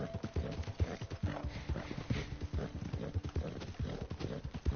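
Horse hooves clip-clop in a steady, uneven trotting rhythm in Red Dead Redemption II, loud and close, with faint creaks and a brief whinny-like tone over continuous ambient game noise.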